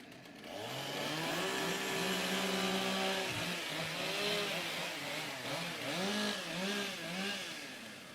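Several chainsaws idle and rev at a timbersports rookie championship, engines rising and falling in overlapping whines as competitors warm up their saws before the race, loud and close with no voices.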